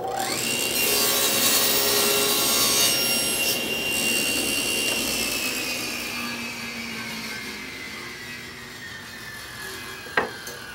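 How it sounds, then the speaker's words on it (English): Power saw cutting through wood for a face frame cabinet, a loud whining rip with a rising and slowly falling pitch that runs for about ten seconds and ends in a sharp snap, close with no talk. "So I'm going to make my cut."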